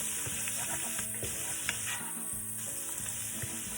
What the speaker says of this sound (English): Add your leftover ham. Stir this around as well.